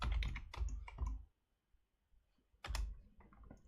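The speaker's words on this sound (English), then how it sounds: "we can type in a username and the password" Quick bursts of typing on a computer keyboard as a username and password are entered, clustered keystrokes, then a short pause, then another burst of clicking keys, close and clear.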